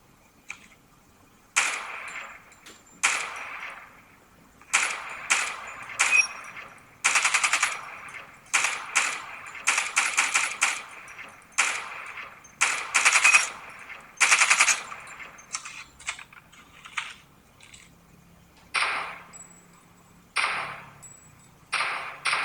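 Gunfire from a shooting video game heard through TOZO Agile Dots earbuds: repeated bursts of rapid automatic shots and single cracks in uneven clusters, close and punchy, with short quiet gaps between volleys.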